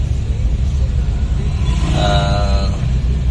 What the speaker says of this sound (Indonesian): Dan Kota Padang sore ini macet banget